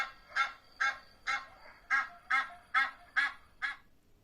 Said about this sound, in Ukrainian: А так загелготав гусак з гускою.